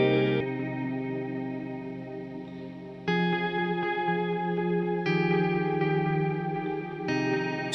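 A dreamy shoegaze-style indie pop electric guitar rings out in sustained, heavily effected chords, chorus-washed and echoing, changing chord roughly every two seconds at 120 BPM.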